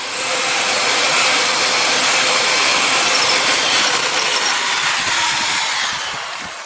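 A power tool works on the cover of a roll-up hurricane storm shutter, giving a steady, loud whirring and grinding drone that runs continuously before easing off at the end.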